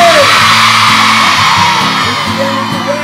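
A crowd at a roller-skating tribute show shouts and whoops loudly and continuously, with a few voices yelling above the mass and a musical tone running underneath.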